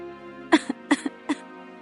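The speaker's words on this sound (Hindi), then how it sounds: "ये कैसी खांसी है, इतनी तेज?" Three strong, harsh coughs from a woman in a sudden close burst, each hack followed by a short rasping catch, with quiet in between.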